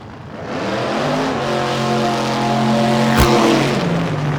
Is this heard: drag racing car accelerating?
yes